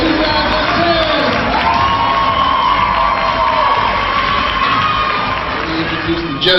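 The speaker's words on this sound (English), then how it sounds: "let's have a nice big round of applause for our 17 contestants for the Black and Gold Idol 2010" Loud, dense crowd cheering and whooping from an audience at the Black and Gold Idol 2010 singing contest, greeting the contestants with a steady roar of voices.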